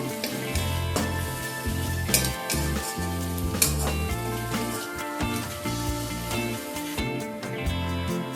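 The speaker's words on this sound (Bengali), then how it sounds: "এবার আদা আর রসুনটাকে অল্প কিছু সময় নিয়ে ভেজে নেব।" Ginger and garlic fry in a pan for a dal palak spinach-lentil dish, a soft, steady sizzle with occasional utensil clinks, all under prominent background music.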